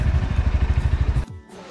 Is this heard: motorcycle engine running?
yes